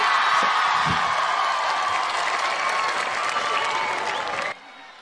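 Dense, sustained applause from a large audience at a Hindi poetry recital, loud and steady for about four and a half seconds before cutting off to a quieter room.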